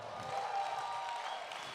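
A festival audience at a slack key guitar concert gives a warm round of applause for a musician, a soft, fairly distant patter of clapping that holds steady.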